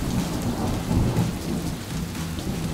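A fake thunderstorm sound effect used in a hidden-camera prank, with steady heavy rain hiss and rolling rumbles of thunder, loud and continuous, with no talk.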